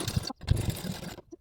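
A sewing machine stitching piping onto a blouse neckline, short close bursts of rapid mechanical whirring separated by brief pauses, with no talk.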